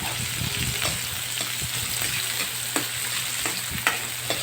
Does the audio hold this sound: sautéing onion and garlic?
yes